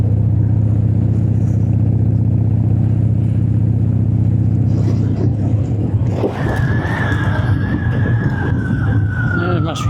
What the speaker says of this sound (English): Seems quite busy in the town this morning.